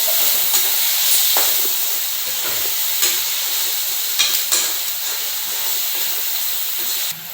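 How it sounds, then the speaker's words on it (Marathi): Village-style chicken with turmeric is stirred in a hot kadhai, loud hissing and sizzling throughout with periodic scraping strokes of a spatula, no voices. "आणि साधारण हळद टाकून घेऊ. आणि हलवून घेऊया"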